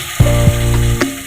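Ground onion, garlic and ginger masala frying in a pan, a loud close sizzle with a few sharp stirring scrapes in a short burst.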